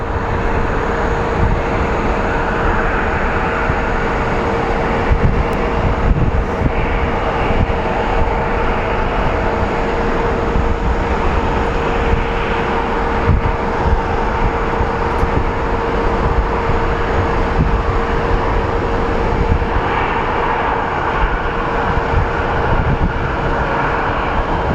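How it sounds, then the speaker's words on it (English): Boeing 737-800 airliner on approach to Sky Harbor International Airport in Phoenix, a steady, loud broadband jet roar with a constant engine whine, continuous across the whole stretch without speech. "on approach, we have a 737-800 series coming in from Raleigh-Durham"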